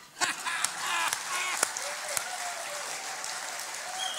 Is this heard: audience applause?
yes